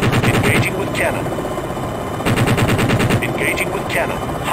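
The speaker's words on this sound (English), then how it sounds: "Engaging with cannon, hot damn." Helicopter cannon in the flight sim game Jane's Longbow fires in rapid bursts, loud and close, with a pause between two volleys over a steady rotor drone.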